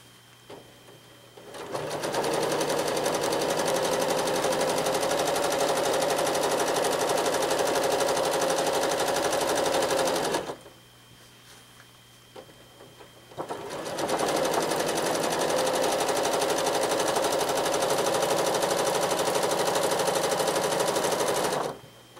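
A domestic sewing machine stitches during free motion quilting in two long, steady runs of rapid, even needle chatter, stopping briefly between them, close and clear with no talking.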